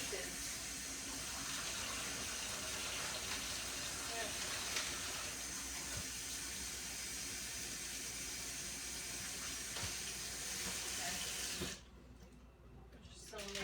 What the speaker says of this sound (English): I'm going to take my cabbage and I'm going to rinse it